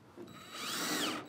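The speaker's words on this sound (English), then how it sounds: "So just cinch the screws home. I've used 2-inch screws for this." Power drill driving 2-inch screws into a wood shelf for sharpening stones, a short close whirring burst that ramps up in pitch and holds steady for about a second before cutting off.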